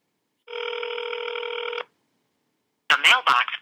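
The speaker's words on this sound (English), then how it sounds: "So when I call, here's his voicemail." A phone line ringing out during a call that goes to voicemail: one long steady electronic ring tone, clear and close, then silence before a voice starts speaking.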